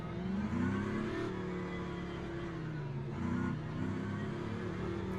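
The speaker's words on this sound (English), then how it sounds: "But it's a really nice car, that Vanwall." A Vanwall hypercar engine revs at Monza in a racing video game, a steady mid-pitched drone that rises and falls through gear changes, continuous and fairly close, with no talk over it.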